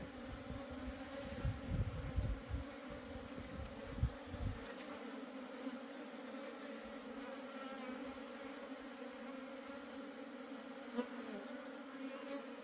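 Honey bees buzz around a hive in a steady, close, continuous hum. A low rumble of handling or wind sits under the first few seconds, then the buzzing carries on alone.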